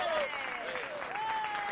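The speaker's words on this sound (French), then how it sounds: "Allez, on applaudit tous très très fort" Audience clapping in a TV studio, a steady wash of hand claps heard with a tonal voice-like line gliding over it, moderately loud throughout the short stretch.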